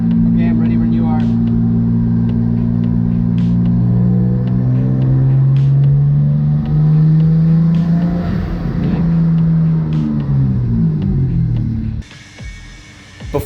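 A car engine revs hard on a dyno power run, rising in a loud, sustained pull for about ten seconds before cutting off sharply, with a voice speaking near the end.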